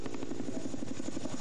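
Helicopter rotor chopping in a fast, steady rhythmic thump, loud and continuous, with no talking.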